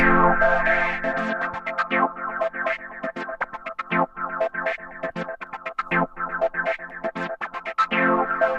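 A synth chord is chopped by the Koshiba AUv3 gate sequencer on iPad into a stuttering sequence of gated steps, some short and clipped, others held longer, cycling in a repeating pattern.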